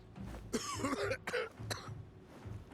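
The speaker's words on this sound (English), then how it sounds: "You're coughing." A character in the video game Dying Light 2 coughs, a few harsh, raspy coughs and throat-clearing bursts close up, followed by quieter low background sound.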